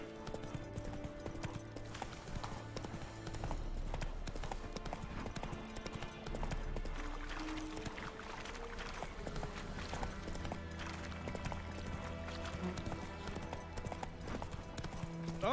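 Hooves of the horse Roach galloping in The Witcher 3, a steady fast clip-clop rhythm running throughout under a sustained music bed, with no speech.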